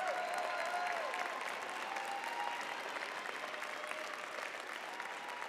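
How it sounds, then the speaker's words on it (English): A commencement audience applauds its graduates in a large hall, sustained crowd clapping that fades slightly as it continues. "Please give a round of applause,"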